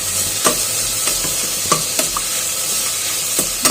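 Thinly sliced large onions sauté for chicken biryani in a steady, loud hissing sizzle, with periodic spatula scrapes and taps against the pan at close range.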